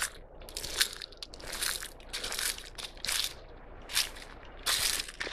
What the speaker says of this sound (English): I'm stepping on all the leaf cover.